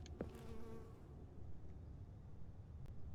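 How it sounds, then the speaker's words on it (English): Insects buzzing in The Stanley Parable video game, a steady low droning hum that fills the scene at low level, with a brief higher whine near the start and no voices. "Only the buzzing of bugs."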